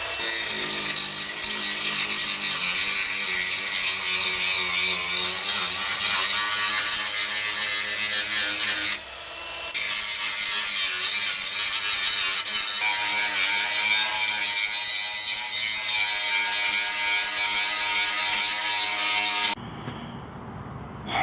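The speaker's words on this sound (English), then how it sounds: "Let's get the grinder and take that layer off and see how it's gonna look." A grinder strips the rust layer off a metal car body panel, a loud continuous abrasive whine lasting around twenty seconds with one brief dip midway and a softer tail at the end.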